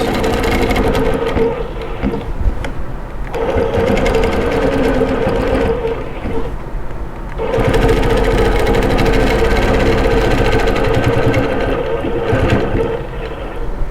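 A longarm sewing machine quilting straight lines across black fabric, a loud, close mechanical hum with rapid stitching chatter that runs in long stretches and dips briefly twice as the machine pauses or slows.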